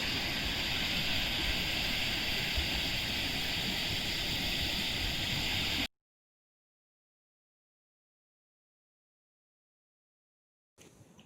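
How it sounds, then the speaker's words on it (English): Steady, dense rushing of a waterfall in a natural outdoor spot, loud and continuous for about six seconds before cutting to silence, then briefly returning at the end. "the sound of the waterfall is so soothing to the ears"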